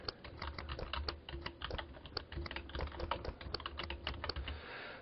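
Quick, steady clicking of computer keyboard keys as a web address is typed into a browser, close and crisp with an even rapid rhythm and no voices.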